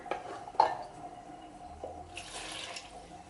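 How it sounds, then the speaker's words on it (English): Chicken broth is poured from a cup into a cooking pot for Mexican mole, making a faint, soft splashing trickle with a couple of light clinks from the cup against the pot. "go ahead and start adding the water"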